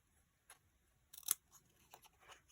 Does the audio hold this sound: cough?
no